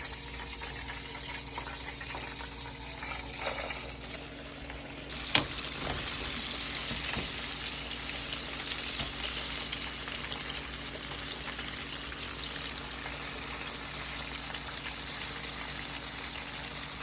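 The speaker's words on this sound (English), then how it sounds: "And then I went ahead and put my chicken into the grease." Chicken wings frying in hot grease for lemon lime wings, a steady dense crackling sizzle that swells louder partway through and then holds close and constant with no talking.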